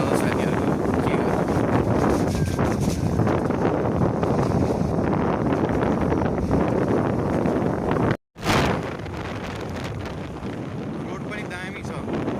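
Cold wind rushing past while riding along a smooth paved road in Nuwakot, a steady broadband roar throughout with a brief dropout near the end, no clear talk.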